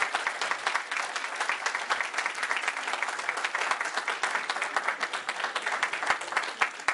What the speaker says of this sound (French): c'est monsieur Elhaj Ibrahima Kourouma, qu'on applaudit s'il vous plaît.